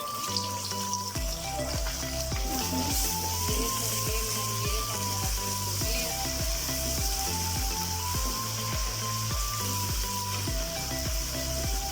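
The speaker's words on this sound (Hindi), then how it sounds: "प्याज लाइट ब्राउन हो गया है, इसमें मैं चिकन डाल लूँगी।" One kilogram of chicken in large pieces hits light-brown fried onions in a pan for biryani, sizzling and crackling steadily throughout beneath rhythmic background music.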